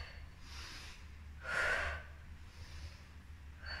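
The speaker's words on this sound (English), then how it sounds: "Breathing in and out." A person in a Kundalini yoga session for pelvic balance breathes out audibly once, a soft airy breath rising out of quiet room noise, with faint lighter breaths before and after.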